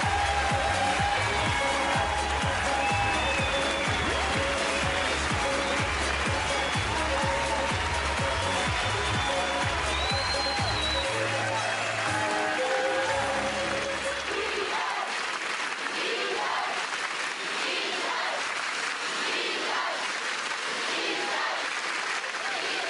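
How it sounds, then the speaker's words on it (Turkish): A Turkish television studio audience at a New Year's Eve game show cheers and applauds loudly in a sustained roar of clapping and shouts that gradually thins toward the end. "Tezahüratlarınıza çok teşekkür ediyorum."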